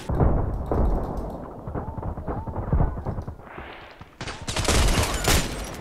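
An IZH-43 shotgun firing in a video game amid a busy firefight, with repeated close blasts, scattered gunfire and rumbling, ending in a loud bright burst.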